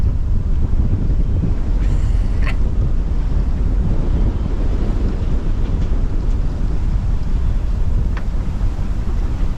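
A sailboat out in the open ocean, loud, constant roar of wind buffeting the microphone over rushing water and waves, with no talk.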